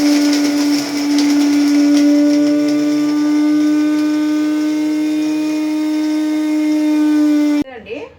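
A mixer grinder whirs loud and steady as it grinds almonds and cashews into powder, holding a constant high motor whine for several seconds before cutting off abruptly.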